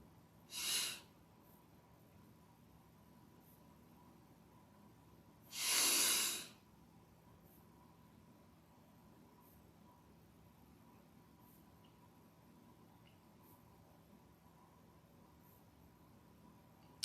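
Two slow, deep breaths during a guided breathing exercise, the first short and the second longer and fuller, each standing out alone against a quiet background with long silent gaps.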